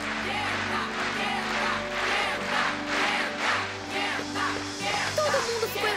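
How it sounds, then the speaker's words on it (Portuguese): A crowd cheers and applauds an animated Beyblade battle, a broad, steady wash of noise with swelling waves that holds throughout, fairly distant, with no clear voices on top. "Kenta, estão todos te aplaudindo."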